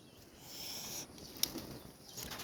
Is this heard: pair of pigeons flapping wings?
yes